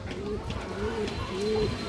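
A Bagha female pigeon coos in a few soft, drawn-out calls close by, with a steady murmur of background noise underneath.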